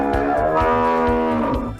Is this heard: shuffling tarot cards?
no